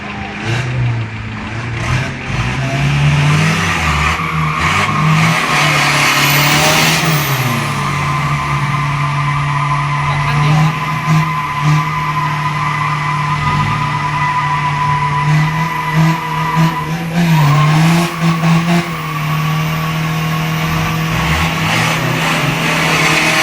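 A Mitsubishi L200 pickup does a tire burnout, its engine droning loud and steady beneath continuous screeching tire squeal, with revs rising and falling as the rubber spins, close and sustained throughout.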